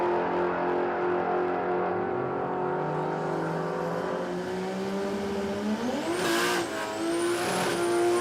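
Two drag race cars launching down a quarter-mile strip at Willowbank Raceway in Australia, a loud sustained engine roar with rising revs and a sharp surge near the end, no talk.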